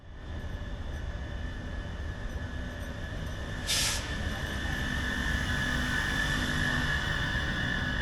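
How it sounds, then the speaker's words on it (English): Škoda 109E electric locomotive, České dráhy Class 380, built for 200 km/h: a steady rolling rumble with a sustained electric whine, close and continuous, with a brief hiss midway. "say hello to the troublemaker that is the Škoda 109E locomotive."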